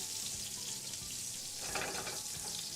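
Foie gras escalopes sear in a small pan with olive oil, giving a loud, dense, continuous sizzling hiss close up that swells briefly partway through.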